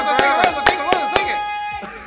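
Five sharp hand claps land in a steady rhythm over a sustained tonal, musical or vocal background, close and fairly loud, before fading into quieter tones.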